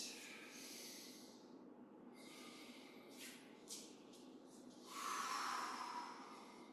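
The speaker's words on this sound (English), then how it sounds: "Breathing a couple breaths." Slow, soft breathing during a qigong exercise, a steady hiss of air with a long inhale followed by a fuller, louder exhale near the end, close and alone with no talk.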